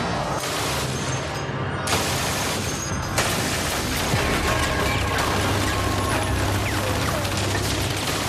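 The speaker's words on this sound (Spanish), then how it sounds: "La MG-42 era tan rápida que no se podían escuchar los disparos por separado." Continuous rapid MG-42 machine gun fire, the shots blurring into a dense tearing roar that pauses briefly and resumes, loud and close.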